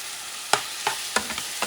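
Ground beef and grated tomato are stirred in a pan: four or five quick, close scraping strokes of a spoon over a soft, steady sizzle.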